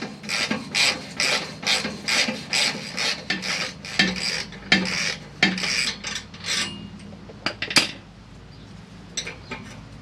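A ratchet clicks in quick bursts while loosening a 12mm exhaust clamp bolt where the tailpipe meets the muffler on a 2020 Toyota Tundra, the rapid pawl ticks close up and pausing between strokes.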